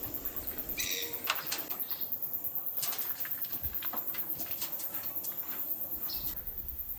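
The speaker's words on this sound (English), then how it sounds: "Also, there were a few kereru, which are the giant wood pigeons." Birds in a kaka aviary with kereru wood pigeons, faint scattered chirps and calls over a low steady background hum, no talking.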